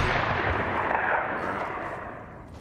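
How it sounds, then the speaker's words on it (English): Sniper rifle fire in an online shooter game, a loud booming shot with a long rolling echo that fades out slowly. "Sound like a sniper."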